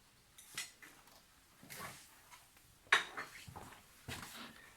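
Ground meat croquette filling being mixed and beaten in a bowl, with soft intermittent scrapes and knocks of a utensil against the dish, each a brief quiet burst with gaps between.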